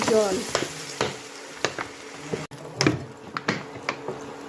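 Potato, cauliflower, peas and tomato sizzle and crackle in hot oil while a spoon scrapes and taps the pan at irregular intervals, close and clear.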